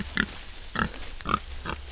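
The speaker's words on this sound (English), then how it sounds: "We're looking for one more black pig." Pigs kept in the woods, including black pigs, give four short grunts at a steady, spaced rhythm, close and moderately loud, with no talking.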